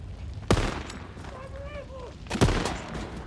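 Gunshots in a film shootout, two sharp loud cracks about two seconds apart with a rumbling tail, while a voice talks quietly in between.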